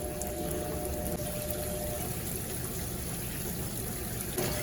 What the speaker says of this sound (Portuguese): Primeiro enxágue, entrada da água.